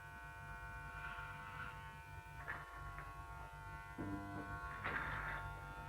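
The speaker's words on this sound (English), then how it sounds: "keeping the clipper close to your head" Electric hair clippers buzz steadily at close range while cutting hair at the side of the head, a constant low hum with faint brushing swells as the blades move through the hair.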